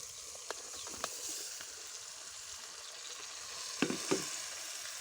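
Chopped tomato and two green chillies hit hot oil in a curry pan over a wood-fired clay stove, giving a steady soft sizzle punctuated by a few sharp spatters and stirring clicks.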